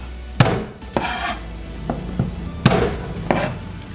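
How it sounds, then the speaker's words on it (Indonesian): A knife blade crushes garlic on a board with a series of sharp, close knocks, five or six hits spaced irregularly, each followed by a short scraping rustle. "Bawang putih dikeprek."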